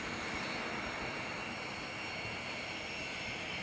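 The engines of an A-10 jet in a flight video game run at steady full power for takeoff: a dense, constant roar with a high whine layered on top, loud and unbroken, with no talking.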